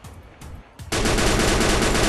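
Sustained rapid automatic gunfire from the Free Fire battle game erupts loudly after a few brief earlier shots, continuing as a dense, steady burst to the end with no talk.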